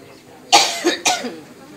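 Two harsh coughs, one right after the other, close up and fairly loud.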